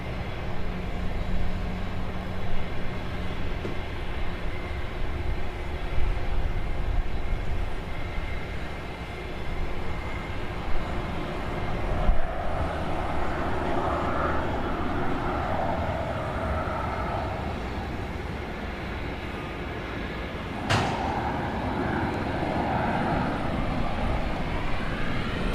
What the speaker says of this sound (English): RNAV Mears, runway 31 right, clear for takeoff, Southwest.